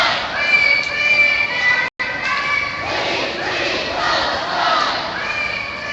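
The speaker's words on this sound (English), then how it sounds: "this is a larger crowd than we've seen in the last 3 days" A large crowd at a Gaza march in San Francisco sends up continuous shouting and chanting voices, loud and close, with a brief cut partway through.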